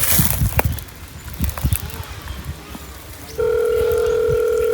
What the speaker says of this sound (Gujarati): લાગ્યો બાપ? રિંગ વાગે છે.